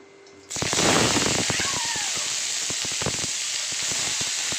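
Cabbage and potatoes hit hot oil tempered with whole spices and bay leaf, bursting into a loud, sustained sizzle with crackling pops scattered through it, close and with no talk over it.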